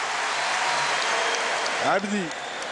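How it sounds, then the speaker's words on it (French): A crowd applauds throughout at a handball match between Algeria and Macedonia, a broad steady wash of clapping, with a brief voice rising over it near the end. "Sous les applaudissements du public."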